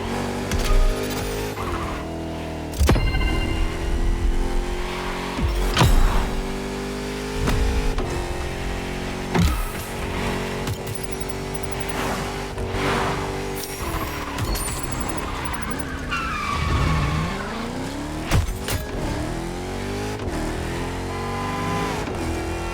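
Ferrari F50 supercar in The Crew Motorfest, its engine rising and falling through repeated revs and gear changes, with tire squeal and skidding bursts over a steady loud roar and no voices.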